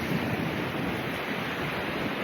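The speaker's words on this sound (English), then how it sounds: "look at that big wave" Big ocean surf at Stinson Beach roars as a continuous, dense wash of breaking waves, loud and close, with wind buffeting the microphone.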